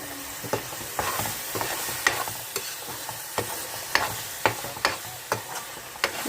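Onion masala with chili powder and salt fries for a fish curry, crackling softly in the pan while a utensil scrapes and stirs in a regular series of light taps, close up and with no voices.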